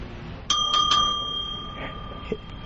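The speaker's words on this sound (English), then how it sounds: "Hit that bell." A bell struck in a radio studio gives a few quick bright rings close together that decay slowly, then one fainter tap follows, with low background hum and no voices.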